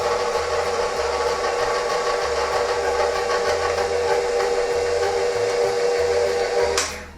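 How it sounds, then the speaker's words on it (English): An electric mixer runs continuously, blending dry ingredients for copycat Cinnabon rolls in a home kitchen, a steady whirring drone with a rhythmic low pulsing, loud and alone, cutting off abruptly at the end. "So I'm going to mix these up first."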